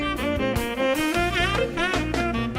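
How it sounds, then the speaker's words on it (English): Band-in-a-Box 2012 RealTracks jazz funk rhythm section with a soloist: a breezy groove of bass, drums and chords under a melodic lead line, played steadily and fairly loud in a brief excerpt. "including this breezy jazz funk rhythm section and soloist."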